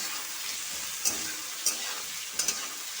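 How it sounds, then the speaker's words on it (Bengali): Chopped onion frying in a pan for a pabda fish curry gives a steady, fairly faint sizzling hiss, broken by a few sharp clicks of a spatula stirring against the pan. "আর একটু অল্প করে সামান্য পেঁয়াজ দেবো দিয়ে এটা একটু ভাজা ভাজার মতো করে নেব"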